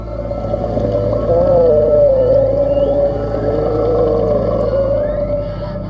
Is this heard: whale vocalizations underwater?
yes